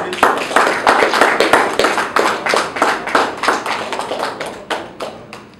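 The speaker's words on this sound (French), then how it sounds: "So we clap our hands." Rhythmic hand clapping, close and loud, with many sharp claps in a steady beat from a small group.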